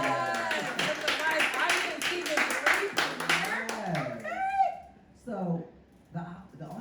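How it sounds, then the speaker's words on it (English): Live studio audience clapping on a talk show, a burst of many hands for about four seconds, then dying out as voices and laughter take over. "can we just clap it up for our live audience,"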